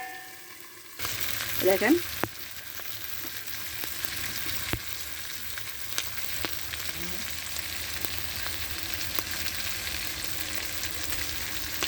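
Magur fish curry sizzles and fries steadily in a covered pan, a constant soft hiss running throughout with a brief louder burst of stirring near the start; a voice speaks once briefly.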